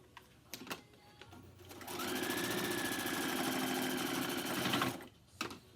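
A sewing machine stitching a fabric face mask runs steadily for about three seconds with a fast, even whir, framed by a few light clicks and handling noises before and after.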